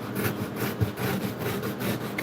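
A freshly sharpened blade cuts through cardboard for a projector screen build, making a rhythmic rasping, sawing scrape of repeated strokes, close and steady, with no talking.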